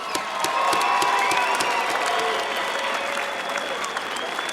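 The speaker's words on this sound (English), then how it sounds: "how about a big round of applause for both of these fighters?" Arena crowd at a Las Vegas fight event applauding both fighters after a decision, scattered close claps over a broad roar of the audience, with a high electronic tone running underneath.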